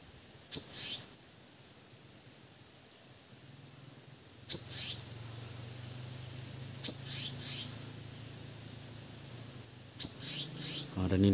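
A parent Selendang Biru bird calls in four separate bursts of sharp, high chirps, close and clear, with short gaps of quiet between them and a low hum underneath.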